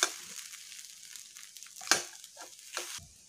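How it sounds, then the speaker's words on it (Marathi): Oil-free sabudana khichdi is stirred in a pan with a soft sizzle and intermittent scraping strokes, quiet and close with no talking. "आणि खिचडीला सतत हलवत राहायचं आहे, म्हणजे खाली चिकटत नाही ते."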